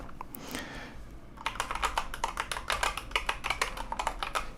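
Fingers type briskly on a Corsair computer keyboard fitted with its normal keycaps. A soft shuffle comes first, then a quick, close series of crisp key clicks in an uneven rhythm.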